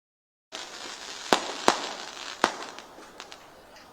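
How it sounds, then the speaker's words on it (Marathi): Several sharp firecracker bangs, three loud ones close together then fainter pops, over a background hiss. "फटाके बंद करा फटाके"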